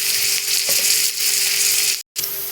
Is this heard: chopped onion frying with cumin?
yes